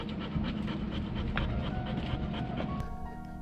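A dog pants rapidly and steadily up close, quick rhythmic breaths over faint background noise.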